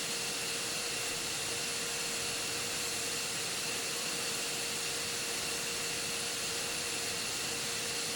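An F-15E jet engine spools up during startup in the DCS flight simulator, a continuous steady whine with broad roaring hiss and faint tonal lines, unchanging in level throughout.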